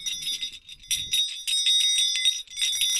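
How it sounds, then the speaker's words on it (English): A Polar Express bell rung repeatedly by hand in a bright, shimmering series of jingling strikes, close and fairly loud, with a brief low rumble at the start. "The Polar Express bell."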